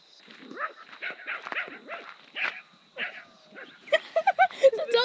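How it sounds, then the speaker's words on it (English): A dog on a cattle station barks repeatedly at cows in a series of sharp, close barks. A quicker run of higher, tonal yelps follows near the end, and people talk in the background. "The dog's scaring the cow."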